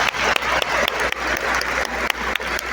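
A church congregation applauds during a Portuguese-language sermon at a RENOVAR gathering, the clapping loud and dense throughout with sharp individual claps standing out, and no talking.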